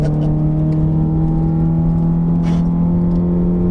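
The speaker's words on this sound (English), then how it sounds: "Wow, this car corners like it's on rails." A modified 2012 Honda CR-Z fan car's engine hums steadily up close while driving and cornering, a smooth sustained drone with a constant tone and no talking.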